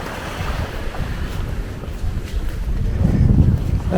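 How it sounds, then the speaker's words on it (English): A sea breeze buffets the microphone on the Sanur, Bali waterfront, a rough gusty roar that swells toward the end, with surf and boat noise blended underneath and no one speaking. "Lovely sea breeze."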